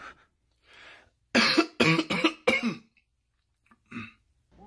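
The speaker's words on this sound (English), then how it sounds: "He's coughing." A person coughs several times in a quick burst after some soft throat noises, followed by one more short cough, close and fairly loud.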